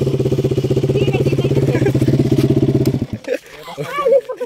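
A KTM motorcycle engine idles with a steady, close, loud rumbling putter for about three seconds, then cuts off, and people talk afterward.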